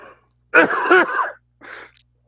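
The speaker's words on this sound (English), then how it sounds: "Look at both of our sick ass coughing at the same time" Two harsh cough-like bursts, a longer loud one followed by a shorter fainter one, close to the listener with silence around them.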